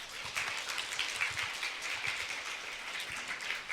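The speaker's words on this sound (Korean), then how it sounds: "박수 한번 부탁드리겠습니다." Audience applause at a lecture concert on classical guitar, a faint, distant patter of many hands clapping steadily throughout.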